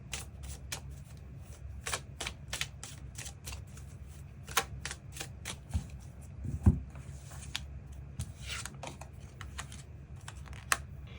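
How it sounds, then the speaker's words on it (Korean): Tarot cards are shuffled and drawn in a quiet room, giving a run of soft, crisp, irregular riffling clicks and flicks close to the listener, with no voices. "조언의 카드 무엇이 있을지 추가 카드 뽑아보도록 하겠습니다"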